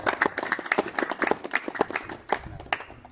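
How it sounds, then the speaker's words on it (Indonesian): Audience clapping at a gathering of a traditional martial arts school, a burst of close, brisk handclaps from a small crowd that thins out and fades over a few seconds. "Tepuk tangan dong."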